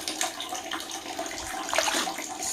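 Water runs steadily from a tap while cloth diapers are rinsed by hand, a continuous splashing wash with slight shifts as the fabric moves through the stream.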